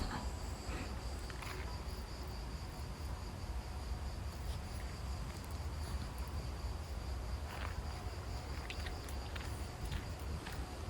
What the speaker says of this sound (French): On entend un peu les bruits de grillons, c'est assez sympa.